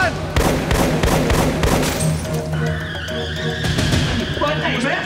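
A rapid burst of gunfire crackles loud and close in dense repeated shots, mixed with crashing and vehicle noise, while voices shout over it.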